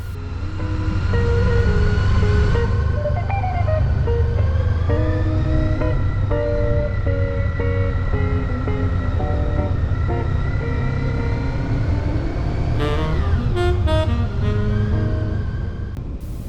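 A motorcycle rides along Portugal's N-2 road, its engine a loud, continuous drone with shifting pitch as the rider accelerates and changes gear, wind rushing over it and nobody speaking.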